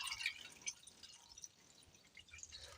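Water runs into a cooking pot that holds sliced carrot rounds, ready for boiling. The sound is a faint, steady splashing trickle with small drips and no talking.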